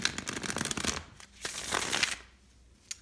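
Tarot and oracle cards shuffle close up in quick, papery riffling bursts, two short rounds of flicking and slapping cards separated by a brief pause, ending with a single soft tap.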